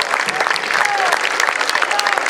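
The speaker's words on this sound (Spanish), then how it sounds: "Renovando el aplauso, le decimos gracias y le pedimos un tema más." Audience applause at an outdoor folk music stage at the Feria de Mataderos, a dense, steady wash of many hands clapping throughout, fairly loud and close, with some crowd noise mixed in.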